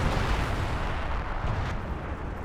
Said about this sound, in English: Some base artillery coming in.